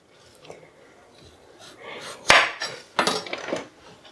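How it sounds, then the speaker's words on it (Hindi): A knife cuts into peeled raw potatoes on a hard surface, close up: a few soft scrapes, then one sharp chop and a cluster of quicker cutting taps. "सबसे पहले हम आलू के ऊपर इस तरीके से हल्का काट देंगे।"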